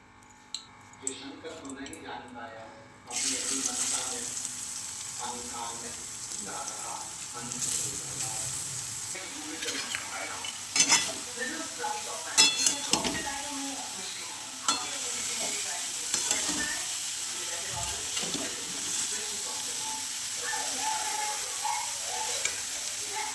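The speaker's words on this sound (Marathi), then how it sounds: "मी मस्त तुपामध्ये मस्त त्याला फ्राय करणार आहे." Grated carrot halwa is fried in ghee in a pan. A continuous close sizzle runs under the scrape and squish of the mixture being stirred, and a voice can be heard at times.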